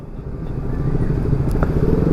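A motorcycle being ridden gives a steady low engine rumble that builds slightly over a couple of seconds, with no talk.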